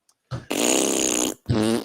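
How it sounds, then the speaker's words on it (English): A loud fart sound effect in two bursts: a long rasping blast, a short gap, then a second shorter blast. It is close and plays alone. "Big fart noise."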